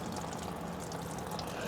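Fuel from a Yamaha XMAX fuel line, opened during a fuel filter replacement, drains in a steady, close, soft pouring trickle with no voices over it.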